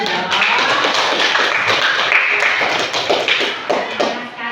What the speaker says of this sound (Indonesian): Waduh, tepuk tangan dulu dong.